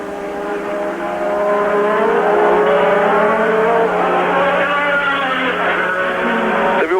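1985 Formula 1 race cars at San Marino Grand Prix flat out through the Piratella high-speed corner, a loud, sustained engine scream with shifting pitch sweeps as cars pass close, continuous for the whole stretch.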